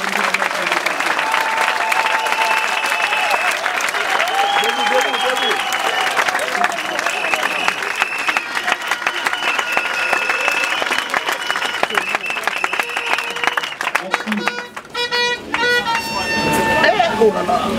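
Audience at a party congress applauds steadily and loudly for the whole stretch, with a voice and other sounds mixed in, and a brief dip near the end before the clapping swells again.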